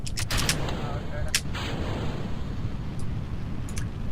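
Rocket engine roaring in Kerbal Space Program as the fins are dropped and thrust is powered up, a steady loud rumble punctuated by several sharp bursts near the start.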